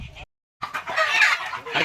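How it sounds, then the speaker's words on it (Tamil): A chicken clucking and squawking loudly at close range as it is caught by hand on a farm, short agitated bursts broken by a brief silence. "இன்றைக்கி கோழி தான் பிடிக்கலான்ட்டு வந்தாச்சு"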